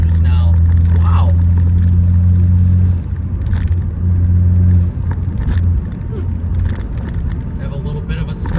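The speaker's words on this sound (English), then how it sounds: "Ooh, I'm having some turbo issues now." Pontiac Solstice with a Stage 1 tune and a suspected turbo fault, engine droning loudly and steadily from inside the moving car, with a strong low hum that eases off partway through while a voice speaks over it.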